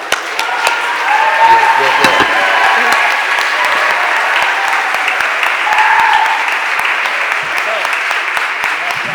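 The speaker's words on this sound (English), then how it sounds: "Let's give a round of applause." Applause rises at a Philadelphia City Council stated meeting, a sustained round of clapping from the chamber's crowd lasting several seconds at steady loudness, with a few stray claps standing out.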